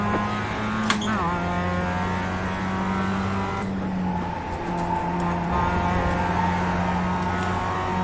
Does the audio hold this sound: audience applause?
no